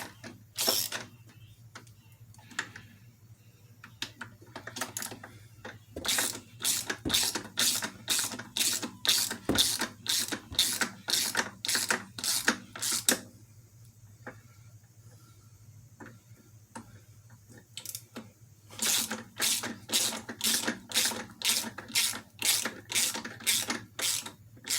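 A hand ratchet turns fine-thread bolts on a Jeep 4.0 engine during a rebuild, giving long runs of rapid, evenly spaced metallic clicks near and loud, broken by a quiet pause before another run.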